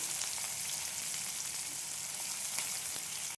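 Onions frying in a pan for a snake gourd dish, a steady close hiss and sizzle running throughout with faint stirring ticks, cut off abruptly at the end, no talk.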